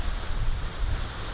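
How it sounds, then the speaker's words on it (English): Ocean waves crash and wash near a winter hot-tent campsite, a steady close rumbling surf with soft swells and wind noise, and no voices. "listen to the sound of the crashing waves and the sight of the ocean"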